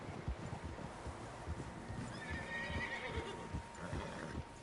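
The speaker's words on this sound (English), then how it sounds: "Horses, quite a few of them." Several horses neigh and whinny with hooves clip-clopping in Red Dead Redemption 2, set on an outdoor trail; repeated low hoof thuds run steadily beneath a couple of faint whinnies and soft wind.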